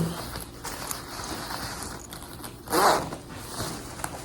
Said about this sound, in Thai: รูดซิปเก็บหูดดี